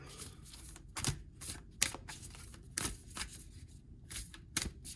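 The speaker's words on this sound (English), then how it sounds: "They want me to actually keep going with the shuffling" Tarot cards being shuffled by hand: a run of crisp riffling and flicking bursts at an uneven pace, close and fairly quiet, with no voices.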